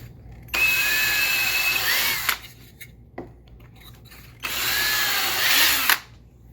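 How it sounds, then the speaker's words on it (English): A power drill whirs up twice, each run lasting under two seconds with a high whine as it bites into the wood of a spinning wheel, separated by a short pause. "I'm gonna run a drill bit in there real fast."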